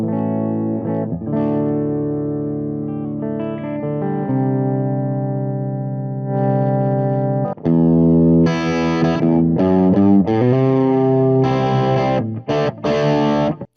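Electric guitar through a JHS AT+ distortion boost pedal, switch in middle position, with light overdrive playing sustained chords then a brighter, choppier riff, loud and continuous with no voices.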